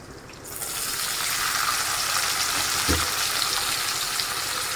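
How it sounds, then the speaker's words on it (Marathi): Finely chopped green chilies hit two ladles of hot oil for sabudana khichdi, a dense steady sizzle bursting in after a brief quieter moment and continuing close and loud, with one dull stirring knock. "आता आपण 2 पळ्या तेल टाकू आणि त्याच्यामध्ये बारीक चिरलेल्या मिरच्या आणि हलवून घेऊयात आपण"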